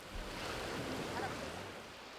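Surf washing onto a sandy beach, a steady broadband wash of sea waves with some wind noise, moderately quiet and continuous with no clear breaks.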